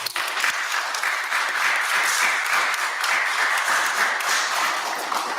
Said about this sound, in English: And let me hear your applause,